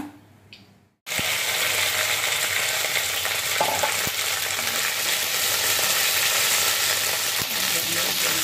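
Okra sizzles loudly in a hot pan with cumin and mustard seeds, a steady dense frying hiss starting abruptly after a brief quiet moment, with occasional clinks of a utensil.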